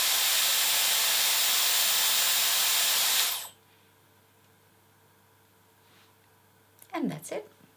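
A hair styling tool blows a loud, steady hiss of cool air to set curls for about three seconds, then cuts off abruptly, leaving near silence and a brief faint rustle.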